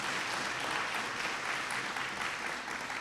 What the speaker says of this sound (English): So let's give them a round of applause because they have a lot of talent.